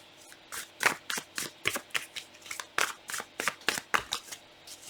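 Tarot cards are shuffled repeatedly by hand, a quick run of crisp riffling bursts close to the ear, with no talking.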